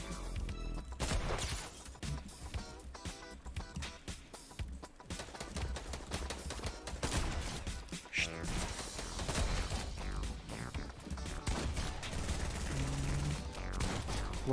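Dense Fortnite gunfire rattles almost nonstop, rapid bursts and volleys mixed with crashes and game effects, loud and busy throughout with voice chatter underneath.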